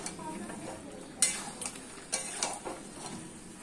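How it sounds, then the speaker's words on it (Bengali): Meat and potatoes stir-fried with spices in a pot sizzle softly beneath a few sharp scrapes and clinks of a spatula against metal. "তো দিয়ে এবার ভালো করে কষাবো মাংসটাকে, আর একটু আলুর সাথে কষিয়ে, আলুটা মশলার সাথে কষিয়ে নেবো ভালো করে।"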